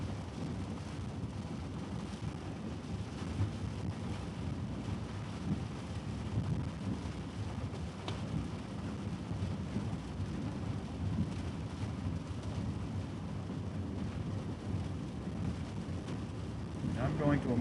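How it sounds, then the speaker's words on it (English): Heavy torrential rain roars steadily over a vehicle driving near Brenham, Texas, a dense continuous wash of rumbling noise with faint thunder and wind buffeting beneath it, loud and unbroken throughout. "I'm going to emerge out of the heavy rain"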